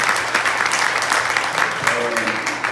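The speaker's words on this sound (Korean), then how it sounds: "뜨거운 박수 한번 다시 한번 해주십시오." An audience at a regional urban regeneration expert workshop in Gyeongsangnam-do gives the presenters a steady round of applause, a dense patter of clapping heard near and loud, with a host's voice speaking over it.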